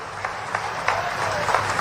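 Applause from a political rally crowd in Shahdol, a dense steady patter of many hands clapping with a few sharper bursts, filling the whole stretch at moderate distance.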